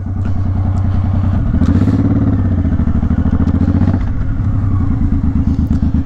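A Suzuki Boulevard motorcycle being ridden gives a loud, steady engine drone with a deep pulsing rumble that swells briefly midway, with no talking.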